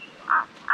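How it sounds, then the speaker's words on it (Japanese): A frog in woodland on Mount Katsuragi gives two short, close croaks in quick succession, separated by a brief quiet gap. "カエルの声が近い。"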